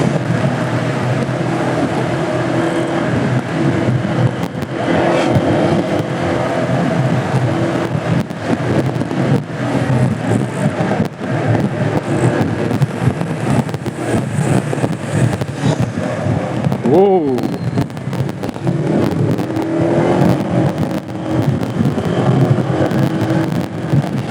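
A race car accelerating along a concrete track at around 50 km/h, a loud sustained engine roar with a brief rising whine near the end, no voices.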